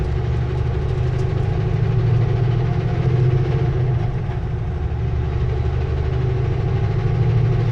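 A car engine rumbles loudly and close while downshifting, a steady low drone with slight changes in tone as it hunts between gears.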